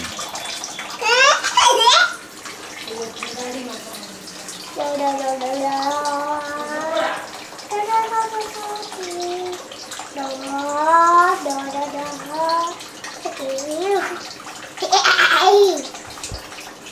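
Water running into a bathtub, a steady wash with louder surges, while a voice and other people talk over it throughout.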